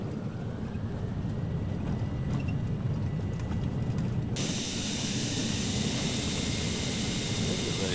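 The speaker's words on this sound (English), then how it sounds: "There's beautiful thrust reversers working there nicely for us." A Hawker H850XP business jet's thrust reversers roar after touchdown in Flight Simulator X, a steady, loud engine rush with rumbling runway noise that brightens into a harsher hiss partway through.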